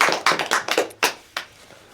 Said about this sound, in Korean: 자, 우리 다 같이 박수 치고 시작하겠습니다.